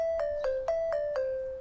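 A phone ringtone plays a quick repeating electronic melody of short bright tones, clear and close with no talking over it.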